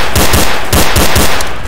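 Loud rapid automatic gunfire in the video game Garry's Mod DarkRP, bursts of close, harsh shots in quick succession that fill the short moment with no talk over them.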